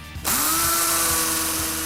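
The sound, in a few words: power drill drilling holes in plastered brick wall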